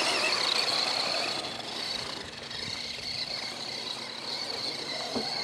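A Traxxas Stampede 4x4 RC truck drives through snow, its electric motor whining high and steady, close and fairly loud, easing in volume midway with no clear voices.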